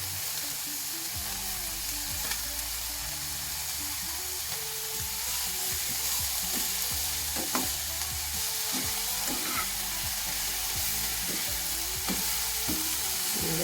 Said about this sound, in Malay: sayur kita tadi yang kita tumis tadi dah sejuk dah